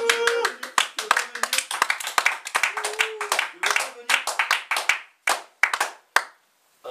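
Scattered hand claps from a small audience at a French theatre company's stage performance, sparse and uneven with short gaps, mixed with a voice speaking over them and a few final isolated claps after pauses.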